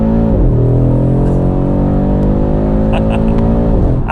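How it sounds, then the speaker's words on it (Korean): An Audi RS3's five-cylinder engine revs loudly and close under hard acceleration. A steady, rising drone climbs in pitch, then eases near the end, and a voice talks faintly beneath it. "이 5기통 엔진이 우라칸의 느낌이 있다"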